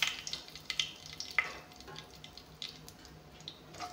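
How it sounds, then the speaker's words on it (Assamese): Bay leaves and five-spice frying in hot oil for a fish curry, a soft steady sizzle with scattered crackles and a few sharp pops close by, no talking. "তেজপাত 3টা অলপমান পাঁচফোৰণৰ লগত ভাজি লওঁ"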